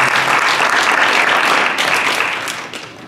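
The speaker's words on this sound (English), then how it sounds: "we should applaud the people who put this on" A dense wash of clapping from an audience at a Black History Month event runs loud and continuous, then fades slightly toward the end.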